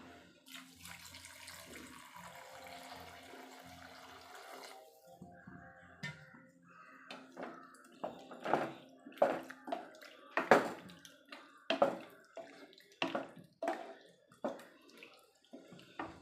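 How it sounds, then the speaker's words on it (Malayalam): Water pours steadily into a pan of curry for several seconds, followed by a series of sharp clinks and scrapes of a spoon against metal. "ചാറിന് ആവശ്യമുള്ള വെള്ളം നമുക്ക് ഒഴിച്ചു കൊടുക്കാം"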